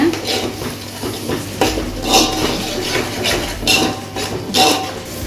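Biryani masala being sautéed for Dindigul Thalapakatti-style mutton biryani, close metallic scraping and clinks of a ladle against the pan repeating in uneven strokes over a faint sizzle, with no talking.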